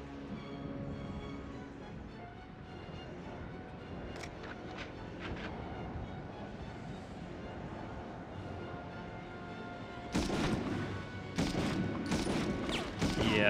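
Gunfire in the World War II shooter game Medal of Honor, with a steady wash of battle noise broken by a few sharp shots and then a denser, louder burst of rapid firing in the last few seconds.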